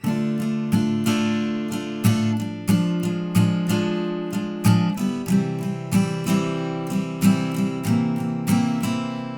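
Guitar chords for the chorus of a song, strummed steadily in a regular rhythm with clear, ringing strokes, played close and alone with no voice.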